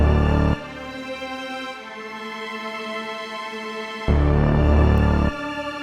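Sustained orchestral string chords from three stacked string instruments play over a deep bass line, with loud held swells at the start and end and a softer sustained passage between them.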